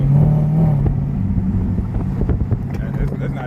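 A Ferrari's exhaust rumbles and revs up close, a loud throaty burst at first easing into a lower pulsing drone, with someone talking over it.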